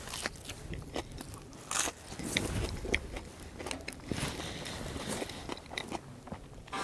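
Someone bites and chews a crunchy grilled panini with melted cheese at a tailgate: close, irregular crisp crunches and snaps as the toasted bread breaks, with softer wet chewing between bites and no talk.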